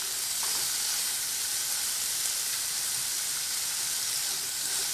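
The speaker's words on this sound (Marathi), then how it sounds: "त्या भाज्या मी परतून घेते थोडं तेलामध्ये, मीडियम गॅस ठेवून परतत राहायचं" Mixed vegetables for kurma bhaji sauté in a little oil over a medium gas flame, giving a steady, even sizzle and hiss throughout with no talking.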